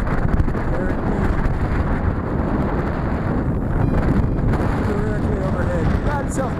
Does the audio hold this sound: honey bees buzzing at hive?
no